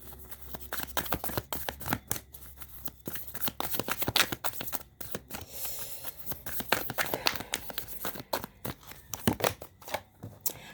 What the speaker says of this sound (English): I want to make sure I get these shuffled nicely.